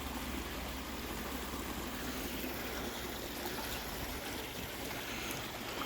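A stream flows along a nature trail among tall trees in Madera Canyon, Arizona, a steady soft rushing of water with no voices.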